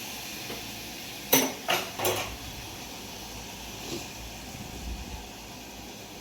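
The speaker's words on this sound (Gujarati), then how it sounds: "જો કોદરીની ખીચડીનો વઘાર." Kodo millet khichdi being tempered in a pot: three quick metallic clanks of utensil against cookware close by, then a low steady hiss with a soft clink or two.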